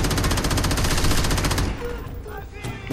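Gunfire in the video game Crackdown, a rapid, evenly spaced automatic burst for about a second and a half, loud and close, then it cuts off, leaving quieter game sounds.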